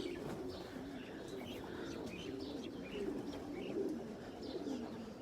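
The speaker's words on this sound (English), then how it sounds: "This is loft number 3 with all these young birds was given to me by a friend." Young pigeons coo softly and steadily inside a loft, a continuous murmur of overlapping calls with a few higher chirps, close by and fairly quiet throughout.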